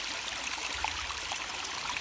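Fast-flowing river water rushes steadily, a dense, even hiss of current with no pauses, fairly close and without voices.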